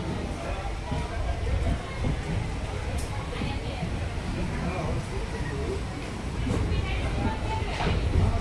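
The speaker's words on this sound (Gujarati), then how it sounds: "પોરબંદર રેલવે સ્ટેશનમાં અમે બેઠા છે" Train noise at Porbandar railway station, a steady broad rumble with low-frequency weight that holds for the whole stretch, with station bustle and people talking over it.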